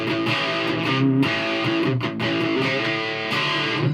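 Electric guitar through a Laney HCM30R amp with the Max boost engaged plays heavy, saturated distorted chords, loud and sustained with a short dip partway and an abrupt stop.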